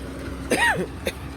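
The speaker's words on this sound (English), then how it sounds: "that's why I'm doing some sort of cough" A rough, voiced cough bursts out once, followed by a shorter, fainter cough-like catch a moment later, close to the listener, in cold weather at a sugar cane factory.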